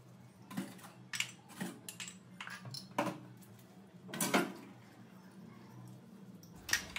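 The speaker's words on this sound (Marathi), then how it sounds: "मलाच ते व्हिडिओ मी एडिट करते आहे तेव्हा असं वाटतं आहे किती सारे भांडे घासते मी" Dishes, pots and pans are scrubbed and washed at home, with scattered clinks, knocks and clatter of utensils coming in irregular bursts, fairly close but quiet, no talk over them.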